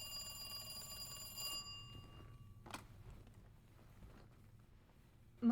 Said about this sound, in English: Just conveniently timed phone call.